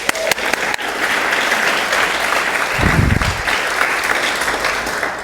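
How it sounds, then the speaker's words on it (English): An audience at a political speech about Florida breaks into steady applause, a dense wash of clapping that holds for several seconds, with a brief low thump partway through. "You can clap at that."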